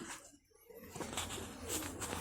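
Pigeons kept in a coop and fed almonds coo softly amid a rough, noisy background that swells and dips over a couple of seconds, with no clear voice on top.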